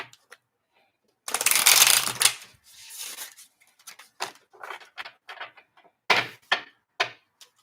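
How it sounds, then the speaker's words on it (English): Tarot cards are shuffled in a crisp, riffling burst, followed by scattered taps and soft slides of cards being handled up close. "Okay, one last shuffle, and I'm going to pull from the bottom of the deck."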